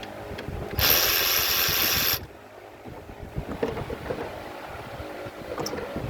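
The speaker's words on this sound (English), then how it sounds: "I'm using a 3/8 to 1/4 inch reducer for my deep well 8mm." An impact ratchet with a 3/8 to 1/4 inch reducer and an 8mm deep socket, used on a modified airbox on a 1993 Ford, gives one loud whirring burst of about a second and a half, followed by quieter handling noises.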